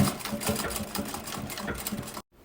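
A sewing machine runs steadily, stitching fabric for a small zippered pouch in a rapid, even mechanical patter, close and clear, then stops abruptly just before the end.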